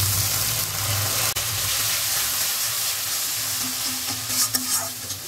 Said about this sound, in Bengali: মশলাটা কষাবার জন্য ভালো করে একটু গরম জল দিচ্ছি।